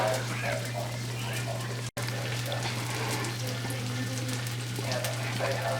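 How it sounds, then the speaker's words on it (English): Steady sizzling and frying crackle of a pan pizza in a hot cast iron pan, close up, with a low constant hum underneath and a brief dropout early on. "So you can see it's still sizzling in the cast iron."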